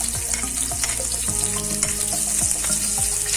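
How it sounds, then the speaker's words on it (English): Sliced onion frying in hot oil in a pan, a steady close sizzle with faint stirring clinks, no talk. "Fry till it turns golden brown."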